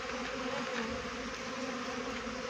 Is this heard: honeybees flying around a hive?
yes